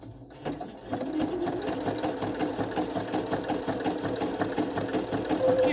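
A sewing machine runs steadily, stitching a zigzag over dental floss to make gathers, a close, continuous whirring hum after a brief quiet start.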